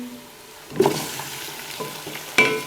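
Chicken pieces hit a pan of browned onions for biryani and start frying, a burst of sizzle at the start followed by scraping stirs and a second clatter, close and steady with no talk.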